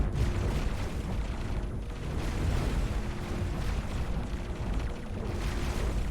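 A space video game explosion booms out as a broad, sustained roar with repeated surges and crackling bursts, loud and close, rolling on for several seconds without speech.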